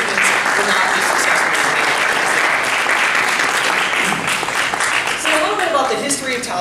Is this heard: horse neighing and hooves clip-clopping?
no